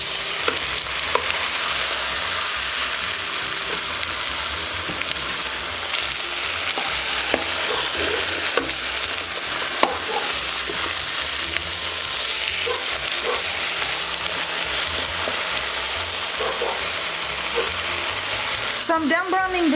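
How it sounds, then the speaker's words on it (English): Pork loin browns in a pan for a crock pot dish with potatoes: a continuous close sizzle with occasional stirring scrapes, ending in a brief clatter. "So I'm done browning the meat"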